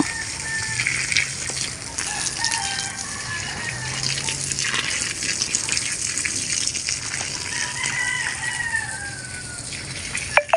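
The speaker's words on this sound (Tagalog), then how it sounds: "Habang nagdidilig ka." Water gushes steadily while plants are watered in a garden where lemongrass grows, a constant hiss and splash throughout, with a rooster-like call faint in the background and no clear speech.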